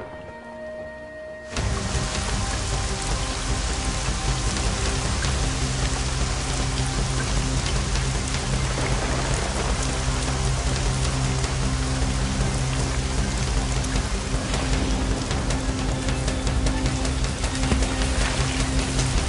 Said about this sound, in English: While the rain drums on the sand, it's dry, safe, and cozy in the foxhole.